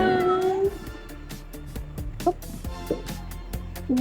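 A cat meows a few times on a boat, short rising cries over a busy background of clatter and murmuring, fairly close.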